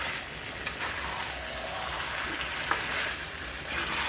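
Mutton sautés in a pan with a steady, close sizzling hiss and a couple of faint stirring knocks, moderately loud and with no talking.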